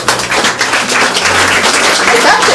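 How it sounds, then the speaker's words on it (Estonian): A museum audience breaks into loud, sustained applause for the exhibition team, a dense wash of many hands clapping at once that fills the room continuously. "nad on teeninud ära ühe suure aplausi"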